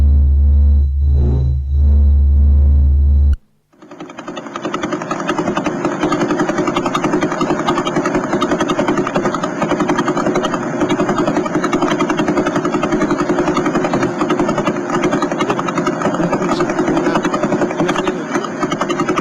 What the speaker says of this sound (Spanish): Pues esto es una estrella de neutrones.